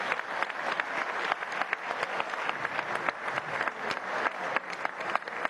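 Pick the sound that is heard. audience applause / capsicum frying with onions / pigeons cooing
audience applause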